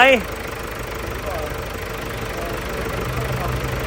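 A Ford car engine settles into a steady idle right after a brief starting whir, a continuous low rumble running throughout at moderate level.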